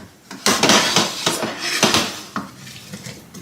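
A metal cooking pot of meat, onions, carrots and garlic clatters back onto a stovetop, with several sharp clanks and scraping knocks close by over a few seconds.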